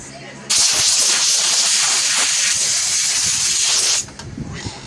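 A strong, steady hiss of pressurized spray blowing sanding dust off a guitar fretboard runs for about three and a half seconds, loud and close, with quieter background noise before and after.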